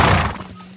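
A horse in Kingdom Come Deliverance 2 gives a short, loud whinny up close, tapering off quickly with some background noise.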